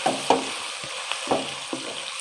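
Tomatoes and spices sautéing in a pan for chicken korma: a soft constant sizzle broken by several spaced stirring scrapes, close and fairly quiet, with no talk.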